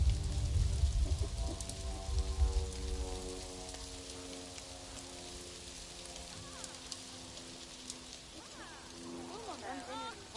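Rain falls in the Planet Zoo management game, a broad hissing wash that is loudest at the start and then thins into a steady patter under lingering tonal game music.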